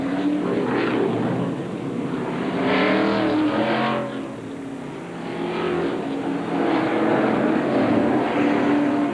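A NASCAR DuPont Chevrolet stock car pulls away from pit road, its engine loud and steady as it accelerates through the gears, the revving pitch rising and holding close by for several seconds.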